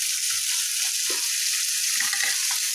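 Chopped vegetables and green chillies with a pinch of salt fry in a pan for upma, giving a steady close hiss of sizzling oil with a few soft stirring knocks.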